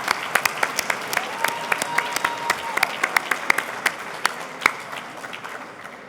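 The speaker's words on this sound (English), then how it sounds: "How about a round of applause for this gentleman right here?" An audience at a charity auction event applauds a buyer, a sustained round of clapping from a mid-sized crowd that fades gradually toward the end.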